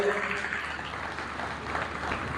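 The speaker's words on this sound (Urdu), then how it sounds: "سرجیکل کے نمائندوں کو ذرا بھرپور تالیوں سے ان کا استقبال کریں" Applause from guests at a surgical industry association's grand election dinner in Sialkot, a continuous wash of clapping from a seated crowd filling the room for a couple of seconds.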